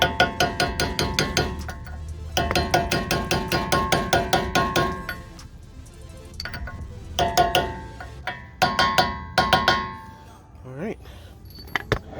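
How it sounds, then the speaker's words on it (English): A hammer taps a rear wheel hub assembly with sensor into place on a 2005–2011 Ford Focus, sharp metallic strikes in quick repeated bursts, close and loud, with pauses between volleys. "Get a couple of light taps on it and it'll be done."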